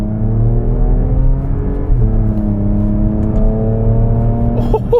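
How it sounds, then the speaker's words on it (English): A Porsche Macan GTS with a 3-litre twin-turbo V6 drones in a loud, close, steady rev that climbs and holds, with a brief shift-like dip midway and a small flutter at the end; no one talks. "I didn't expect it to sound so good because, it's a 3-litre twin turbo engine"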